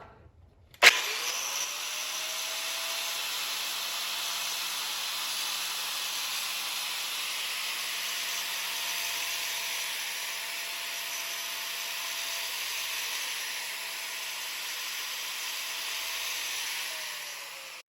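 A power grinder spins up with a thump and whine, then steadily grinds a steel lawn mower blade at a set angle, throwing sparks, a loud, continuous, close hissing rasp with no voices.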